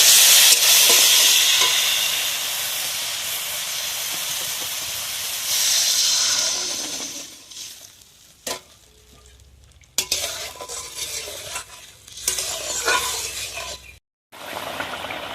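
Hot village-style fish curry hisses and sizzles loudly as water is poured in, a strong broad steam burst for several seconds that fades into quieter bubbling with faint stirring and clinks.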